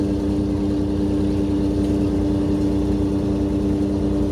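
A sailboat's inboard engine runs under throttle, a steady, loud mid-pitched drone with an even rhythmic thrum and no variation across the stretch.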